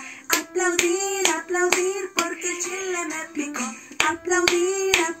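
Hands clap in a steady rhythm at a children's song singalong, about a dozen sharp claps spaced evenly under a woman's sung chant, close and loud.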